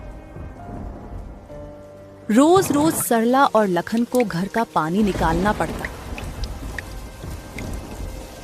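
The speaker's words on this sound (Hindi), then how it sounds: "ये बारिश का सिलसिला यूं ही कुछ दिन तक जारी रहता है।" Rain and thunder sound effect from an animated Hindi story about cold-weather rain, a steady wash of rainfall with low rumbles running throughout, while a narrator speaks over it for several seconds before the rain continues alone.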